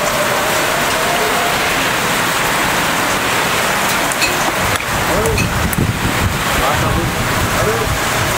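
Steady, dense hiss of heavy rain falling close by, with gusty wind noise and some talking underneath.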